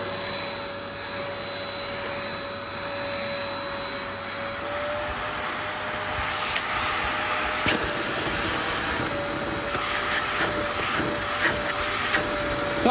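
A Dyson DC03 upright vacuum cleaner runs with its brush bar switched off, giving a steady, loud motor whine with a whooshing suction roar and occasional bumps and clicks as it moves.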